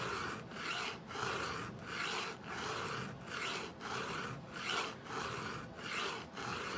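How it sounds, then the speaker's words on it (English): A hand file squares a saw chain's cutters in steady, even strokes, about ten rasping passes with short pauses between, close and continuous with no voices. "the other big thing whenever you're trying to square file is make your movements like a machine"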